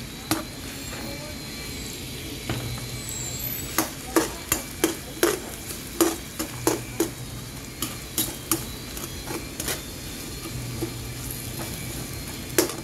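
Onions sautéing in a pan in a home kitchen, a low steady sizzle under a run of sharp spatula taps and scrapes against the pan, some in quick clusters.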